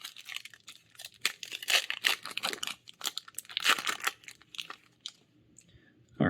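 Crinkly tearing of an Innistrad Crimson Vow Magic card booster pack's foil wrapper, a run of close, dense crackling rips and crumples with a brief pause near the end.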